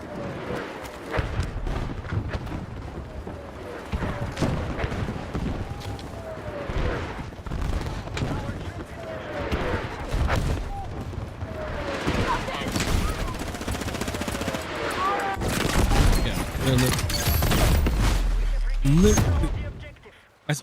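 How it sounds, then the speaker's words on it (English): Repeated mortar fire in a video game battle at an airbase, with heavy thumps and crackling gunfire overlapping steadily and building to a louder barrage near the end. "Just mortar, mortar, mortar, mortar, mortar."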